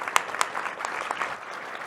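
An audience at a fintech pitch contest claps for a couple of seconds, a burst of scattered handclaps with a few sharp loud ones, moderately faint and fading out.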